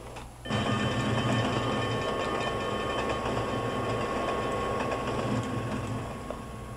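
An Amtrak train in the Trainz game rumbles along steadily after a sudden start, a dense mechanical clatter and hum that holds constant and then eases slightly toward the end.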